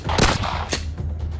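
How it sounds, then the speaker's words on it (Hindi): Gunfire exchanged between the army and militants during an encounter near the LoC in Akhnoor, Jammu and Kashmir: a loud, close burst of shots followed by a second sharp report, with a dense, noisy background. "दोनों तरफ से गोलियां चल रही हैं, गोलीबारी हो रही है।"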